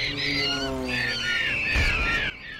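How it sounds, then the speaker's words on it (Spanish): Harsh, overlapping bird squawks and shrieks from a bird attack scene in the horror film Birdemic, loud and close, with a brief thud near the end before the noise cuts off abruptly. "comienza el ataque de los pájaros"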